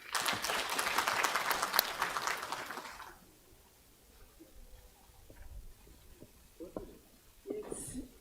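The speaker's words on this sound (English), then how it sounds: "A big round of applause for our Commissioner." Crowd applause at a school annual general meeting, a loud dense burst of clapping for about three seconds that stops abruptly, followed by quiet room noise with scattered faint knocks and a distant voice.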